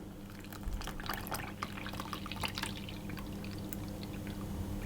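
Buttermilk pours into a well in a flour mixture for soda bread, a soft continuous liquid trickle with faint splashy drips, steady and close, with no talking.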